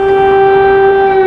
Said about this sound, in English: air raid sirens sound over the Ukrainian capital